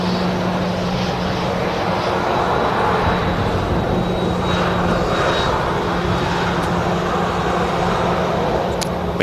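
Aircraft noise at Manchester Airport, with an Icelandair Boeing 737 MAX 9 holding to cross the runway: a steady, broad engine roar and rumble with a constant low hum, continuing evenly throughout.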